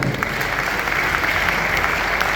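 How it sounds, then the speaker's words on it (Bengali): An audience applauds organisers at a Royal Fighter sales training programme, a steady, dense wash of clapping that fills the whole moment without a break. "স্যারদের জন্য আরও একটা করতালি।"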